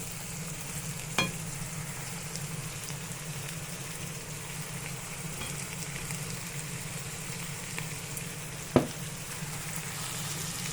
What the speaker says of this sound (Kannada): ಈ ಥರ ಫ್ರೈ ಆಗಬೇಕು ಎಣ್ಣೆಯಲ್ಲಿ ಸ್ವಲ್ಪ ಹಸಿ ವಾಸನೆ ಹೋಗಬೇಕಲ್ಲ